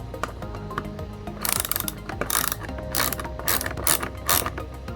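Ratchet clicking in quick bursts while tightening the bolts of a third brake light on a 2018-2020 Honda Accord, several close, loud runs of sharp rapid clicks separated by short pauses, no talk.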